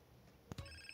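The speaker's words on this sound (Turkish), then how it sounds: "Sonunda çaldı telefon." A phone in the video game GTA San Andreas rings in a short electronic burst of bright tones, clear and close, after a couple of soft knocks.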